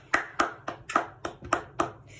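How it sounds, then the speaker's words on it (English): Seven sharp hand claps in a steady rhythm, close and fairly loud, with short pauses between each. "Clap it up."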